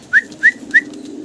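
Three short, evenly spaced coos or calls from fancy pigeons at a farm, close and clear over a low steady background hum.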